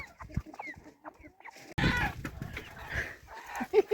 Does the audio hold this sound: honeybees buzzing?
no